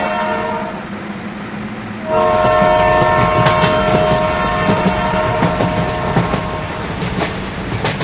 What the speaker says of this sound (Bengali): তো রেলের শব্দ কিন্তু আপনারা এখনই শুনতে পাবেন।